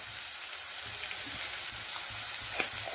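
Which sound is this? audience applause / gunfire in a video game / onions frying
onions frying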